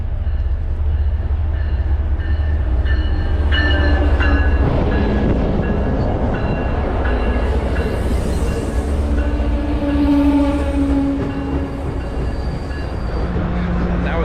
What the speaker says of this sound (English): Freight train, by the way, you're welcome.